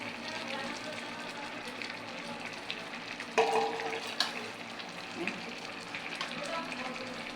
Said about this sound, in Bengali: আমার পুঁই শাকটা দেখুন পাঙাশ মাছ দিয়ে রান্না করছি।